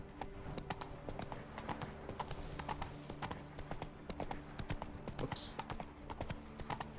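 Hooves of Roach, the horse in The Witcher 3: Blood and Wine, clip-clop in a steady trotting rhythm close by, with a brief spoken exclamation over the game sound.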